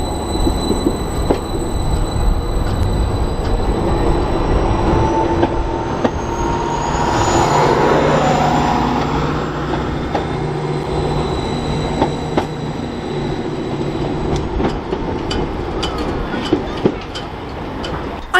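A train at a station on the East Suffolk Line between Lowestoft and Ipswich produces a loud, sustained rumble of wheels and carriages, with rhythmic clicks, a rising whine and squeals, and no talk.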